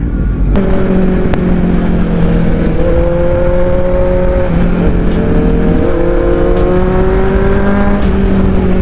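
A Kawasaki Z900 motorcycle engine hums loudly and steadily, its pitch rising and shifting as it revs, close by, with traffic noise underneath.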